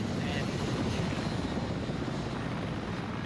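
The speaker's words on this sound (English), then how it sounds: "the helicopter right there" A helicopter in the military shooter Arma 3 drones steadily as a low, continuous rotor rumble. It stays at an even level for the whole stretch, with no clear gaps.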